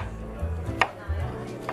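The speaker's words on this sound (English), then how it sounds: "So in the other half, and the leftover bits, just rough chop." A knife rough-chops cauliflower leftovers on a board during a cooking demonstration, giving a few close, soft thuds spread unevenly across a short moment, with a sharper cut standing out near the middle.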